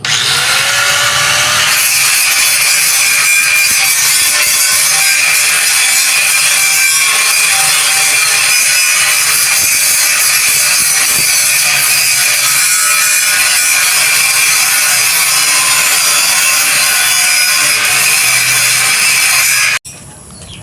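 A handheld grinder saws into wood outdoors with a loud, continuous high-pitched whine and rasp that holds steady for about twenty seconds before cutting off abruptly.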